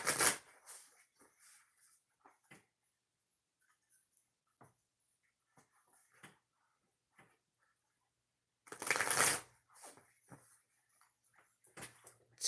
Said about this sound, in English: I'm going to shuffle and then we'll start, okay?